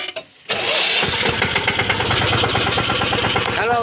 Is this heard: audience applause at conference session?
no